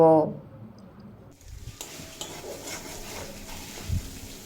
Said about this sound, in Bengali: এক ছোট চামচ ধনের গুঁড়ো আর সামান্য কাশ্মীরি লঙ্কার গুঁড়ো দিয়ে খুব ভালোভাবে ভেজে কষিয়ে নেব